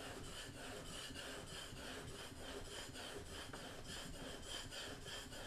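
Smoothing plane blade bevel rubbed backwards and forwards on a honing surface, a continuous rhythmic rasping scrape with regular strokes, close and steady throughout with no talk.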